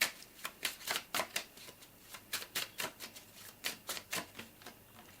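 Tarot cards being shuffled and drawn from a deck: a quick run of soft, papery flicks and riffles, steady and close, with no talk over them.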